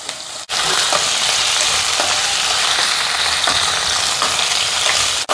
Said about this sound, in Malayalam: എണ്ണ ചൂടായപ്പം നമ്മൾ കിഴങ്ങിട്ട് കൊടുത്തേ. ഒന്ന് ചെറുതായിട്ടൊന്ന് നമ്മളൊന്ന് ഷാലോ ഫ്രൈ ചെയ്തെടുക്കുക കേട്ടോ.